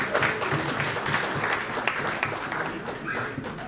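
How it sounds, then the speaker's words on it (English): Sustained audience applause fills a Ministry of Home Affairs award ceremony hall, a dense, steady wash of many hands clapping at an even loudness throughout. "Your applause will be the finest way to appreciate the contribution"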